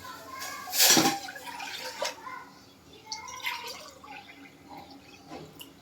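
Water pouring into a small, freshly washed kadhai on a lit gas stove, a loud splashing burst near the start, then softer trickles and drips fading out over several seconds.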